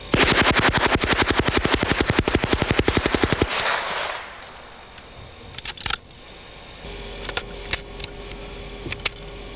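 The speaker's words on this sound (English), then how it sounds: "This is a burst to show controllability of this very lightweight weapon." A long, rapid burst of automatic fire from a very lightweight Calico M950 submachine gun, loud and close, with evenly spaced shots over several seconds, followed by a few scattered later reports and clicks.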